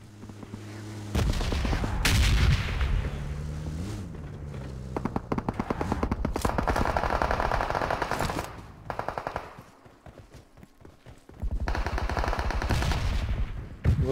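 Sustained automatic gunfire in the battle royale video game PUBG Mobile, long bursts of rapid shots broken by short pauses, loud and close, with little else beside it.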